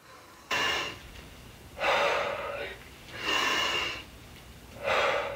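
A mother breathes hard during a modified strength workout, giving four strong, close breaths at steady intervals, each lasting about a second, over quiet room tone.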